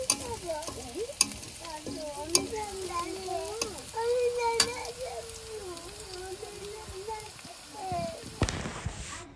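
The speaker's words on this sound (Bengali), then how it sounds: "এখন এই যে পেঁয়াজের বেরেস্তা করছি" Onions frying for beresta in a pan for vegetable pulao in a village kitchen, a steady sizzle running throughout with scattered stirring clicks and a voice talking over it.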